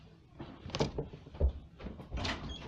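A door being opened indoors, with a few soft knocks and thuds spread across the short stretch, moderately close, with no talk.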